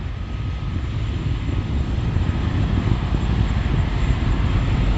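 A SpaceX Falcon 9 rocket's engines roar during launch, heard as a steady, dense low rumble with broadband hiss that holds evenly throughout, no voices present.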